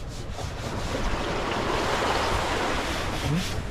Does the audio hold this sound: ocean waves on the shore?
yes